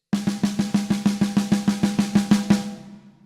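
Snare drum playing sixteenth notes with single strokes in alternating right-left sticking, about fifteen even, evenly spaced hits over roughly two and a half seconds, then a short ringing decay; close and loud with no talking.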